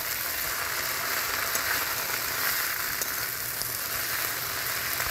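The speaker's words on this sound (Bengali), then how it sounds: "এবার এটাকে নাড়িয়ে নেবো ভালো করে।" Jute leaves with grated ginger and green chili cook in a pan, producing a soft, even sizzle and faint stirring hiss that holds steady throughout, with no voices.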